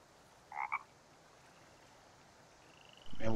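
Frogs croaking in the forest of the survival game The Forest: two quick loud croaks close together, a quiet stretch of ambient background, then another louder croaking burst at the end.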